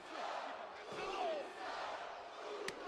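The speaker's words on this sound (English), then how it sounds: "Crowd trying to rally support for Jimmy Uso." A wrestling arena crowd at SmackDown rallies behind Jimmy Uso, a distant, muffled wash of cheering and chanting that swells and dips without a break.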